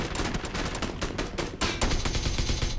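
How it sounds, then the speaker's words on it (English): Dense automatic gunfire in PlayerUnknown's Battlegrounds, a loud, steady stream of rapid shots with a brief dip before a heavier burst resumes, no talking over it. "So I wait for that guy to finish off his shots."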